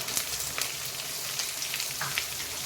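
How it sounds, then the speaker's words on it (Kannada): Onion, chilies, cumin, lentils and curry leaves frying in hot oil, a steady bright crackling sizzle with scattered pops, close and alone throughout. "ಈಗ ಇದನ್ನು ಫ್ರೈ ಮಾಡ್ತೇನೆ ನಾನು. ಚೆನ್ನಾಗಿ ಫ್ರೈ ಆಗಬೇಕಿದು."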